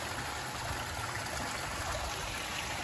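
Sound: koi pond waterfalls splashing

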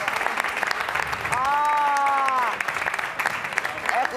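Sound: TV studio audience applauding the orchestra

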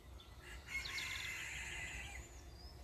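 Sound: rooster crowing

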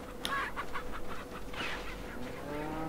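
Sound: chickens clucking in Resident Evil 4 video game

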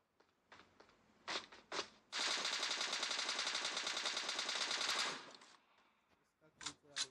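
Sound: gunfire in video game PUBG Mobile Lite

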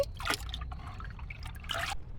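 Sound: rainwater poured from a drum into a small pot

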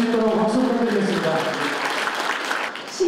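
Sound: applause at an inauguration ceremony

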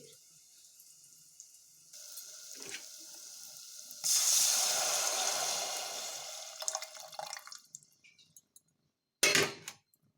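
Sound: horse gram soup with tamarind water boiling

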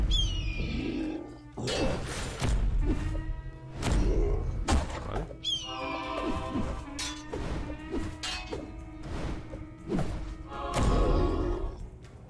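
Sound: archer's ultimate arrow shot in video game Dwarves: Glory

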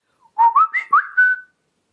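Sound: whistling imitation of the Samsung phone ringtone

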